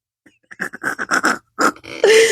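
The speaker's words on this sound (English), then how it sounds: "The burp started." A person makes a run of short guttural grunting sounds ending in a long, loud croaking burp, close to the ear.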